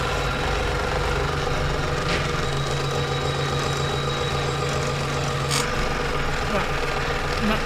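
A sewing machine bastes bag fabric down onto stabilizer, a steady, continuous motor hum and rapid stitching chatter close by, with a faint voice now and then.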